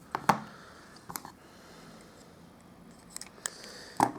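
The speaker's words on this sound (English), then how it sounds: "So I'm just going to directly cut it in half." Scissors snip through a piece of paper die-cut shape for a 3D embossed sea-themed card, a few short crisp cuts spread apart with quiet gaps between, close and fairly faint.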